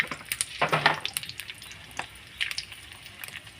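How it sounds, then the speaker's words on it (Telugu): Tempering seeds (mustard, cumin, urad dal and chana dal) drop into hot oil for a spinach and onion curry, giving a short burst of close sizzling and popping that settles into faint scattered crackles. "దాంట్లోనే కొంచెం తాలింపు గింజలు, ఆవాలు, జీలకర్ర, మినపప్పు, శనగపప్పు, తాలింపు గింజలు వేసుకోవాలి."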